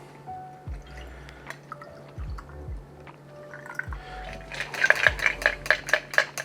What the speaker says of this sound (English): We're gonna double strain into my Libby glass here.